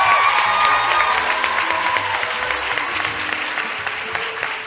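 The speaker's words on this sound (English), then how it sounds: "Let's give our students a round of applause." A large audience at a college health professions pinning ceremony applauds the graduating students, with loud, dense clapping and a few cheers that slowly ease off over a few seconds.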